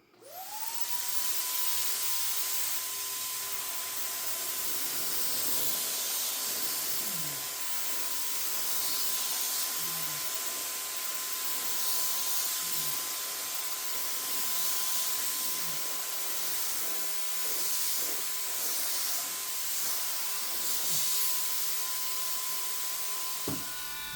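A Phalanx Turbine 2.0 electric spray gun with an oversized tip sprays paint, giving a loud, steady turbine whine over a broad airy hiss that runs unbroken for the whole stretch, with light rustling beneath.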